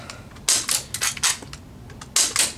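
An airsoft pistol, a P226C, fires pellets in a quick series of sharp, loud snapping cracks, some in close pairs, with brief gaps between them.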